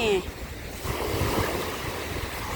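Sea waves roll onto Jomtien beach in strong surf, a steady broadband wash with a brief louder burst at the start, buffeted by wind noise on the microphone.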